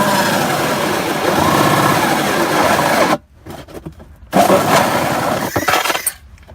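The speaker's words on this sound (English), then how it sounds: "Now we're drilling a 4-inch hole." A power drill bores a 4-inch hole for a French drain pipe that runs to a sump pit. Loud, steady grinding drone for about three seconds, a brief pause, then the grinding resumes and continues to the end.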